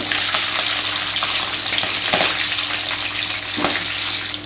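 Green chillies added to urad dal and chana dal frying in hot oil for a South Indian variety rice tempering, giving a loud, steady, close sizzle with crackling pops throughout and no voices.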